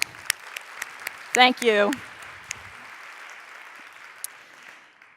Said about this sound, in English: And so, round of applause.